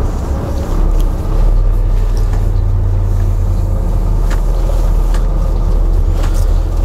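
Scania R 450 truck engine running while the driver shifts down through the gears to slow the vehicle, a loud, steady, deep rumble heard from inside the cab throughout.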